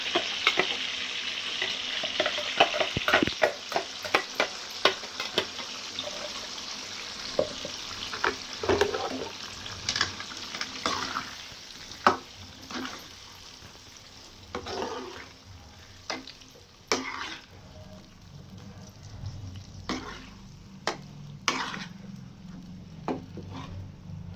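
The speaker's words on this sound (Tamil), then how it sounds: "நம்ம அப்படியே இப்போ மசாலாவை கொட்டிக்கலாம் அரைச்ச மசாலாவை அப்படியே நம்ம சேர்த்துக்கலாம்" Ground masala paste hits hot oil with brinjal for a Tamil eggplant kuzhambu, crackling and sizzling loudly at first, then settling to softer frying broken by scraping stirs of a spoon against the pan.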